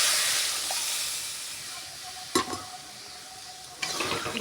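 Hot water poured into a pan of potatoes cooked down with spices, a steady steamy hiss and sizzle with a sharp burst partway through and another surge near the end.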